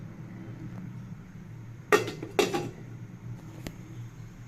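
A metal lid is set onto a pot of shrimp soup cooking on a stove, giving two quick clanks close by over a quiet kitchen background hum.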